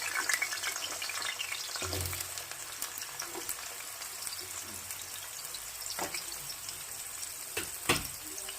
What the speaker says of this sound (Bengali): এইবার আলুটাকে আমরা তেলের মধ্যে দিয়ে হালকা করে ভেজে নেব